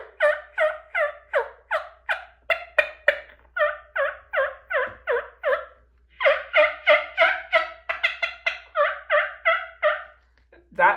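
Loud, rapid gobbling and hen-like calls made on a diaphragm mouth call imitating a wild turkey, repeated in rhythmic bursts almost continuously, close and clear with no talking.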